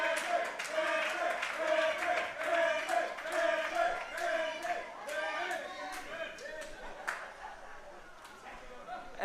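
Crowd at a live wrestling fight night cheering and shouting, a steady loud roar with scattered claps and yells that eases toward the end.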